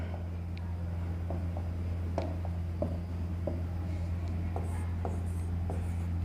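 Hand-writing of a chemistry equation, with a pen or chalk making scattered short taps and scratches over a steady low hum, near and fairly quiet, with no talking.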